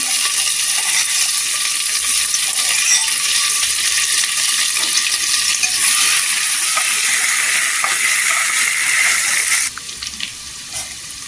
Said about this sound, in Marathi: इथे कढीपत्ता टाकायचा, इथे ठेचा टाकून घ्यायचा।